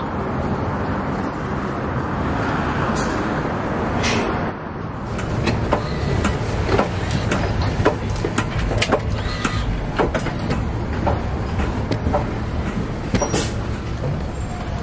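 A city bus pulls up on a busy street, its engine rumbling loudly up close, with a sharp air-brake hiss and a dense stream of surrounding traffic noise throughout.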